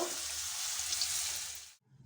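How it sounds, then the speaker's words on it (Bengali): Pakoras frying in hot oil, a dense, steady crackling sizzle heard close up that cuts off abruptly near the end, leaving near silence. "তো বাকিগুলো একইভাবে তেলে দিয়ে দেব"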